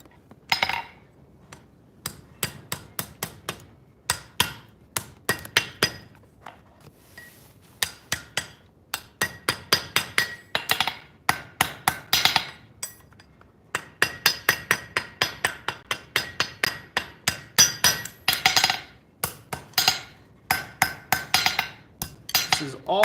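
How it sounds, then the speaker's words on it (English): Blacksmith hammering hot metal on an anvil during forging in a coal-fired shop, bright ringing strikes in quick rhythmic bursts with short pauses between runs, close and clear. "This is all about some careful forging."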